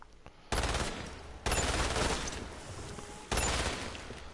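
Bursts of rapid gunfire in the zombie shooter video game Umbrella Corps, three loud sustained volleys starting abruptly and running back to back, dense and close, with no talk over them.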